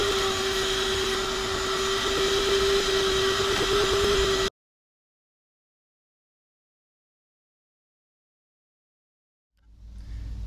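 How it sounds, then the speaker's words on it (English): A vacuum cleaner runs steadily at close range for about four seconds while cleaning beneath the flipped-up rear seat of a 2003 Toyota Camry, then cuts off abruptly, leaving silence before a low rumble returns near the end. "and then just vacuum it up"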